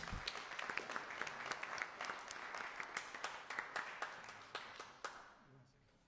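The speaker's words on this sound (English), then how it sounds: "Let's give a round of applause for all of our amazing speakers." Applause from an audience at a live school committee election Q&A event, a scattered run of individual claps fading out over about six seconds, fairly faint with some murmuring underneath.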